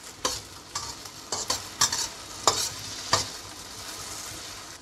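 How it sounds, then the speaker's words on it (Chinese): Potato and mushroom are tossed in a sizzling pan, with a steady fry hiss under about eight sharp, irregular spatula strokes scraping the metal, close and without speech. "然后炒"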